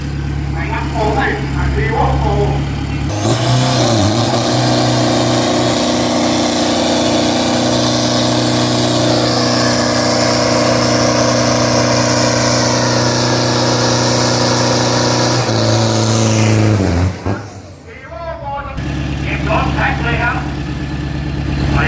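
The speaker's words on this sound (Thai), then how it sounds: "ช่างเปิ้ลเครื่องซิ่งครับคันนี้ ทำการซ้อมนะครับ" Toyota Hilux drag pickup at a Bangkok drag strip on a practice run, its engine roaring in a long, loud sustained rev that climbs for several seconds, then cuts and drops away near the end; voices talk before and after it.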